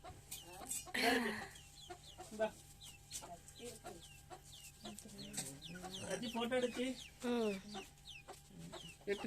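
Hens cluck in short repeated bursts close by, with people talking over them throughout.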